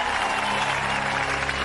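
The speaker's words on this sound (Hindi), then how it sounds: "ताली बजाओ ताली।" An audience claps together in a steady, dense burst of applause, loud and continuous for a brief moment with no talking over it.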